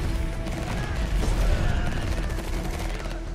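Rapid, overlapping gunfire from units in the real-time strategy game Tempest Rising, a loud, steady rattle of shots with a brief unit voice line beneath.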